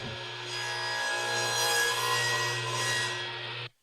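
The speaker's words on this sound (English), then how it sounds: "Then make a 45 degree spline cut." A Sears Craftsman radial arm saw cuts a 45 degree spline groove through a wooden workpiece, giving one steady, close, high whining rasp that runs nearly four seconds and then stops abruptly.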